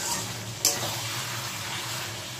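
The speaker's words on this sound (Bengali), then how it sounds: "চিকেন প্রায় আমার কষানো হয়ে গেছে। দেখো তেল বেরিয়ে গেছে চিকেনের থেকে।" Chicken sautéing in oil in a pan, a steady low sizzle and bubbling throughout with a couple of brief scraping stirs, close and fairly quiet, no voices.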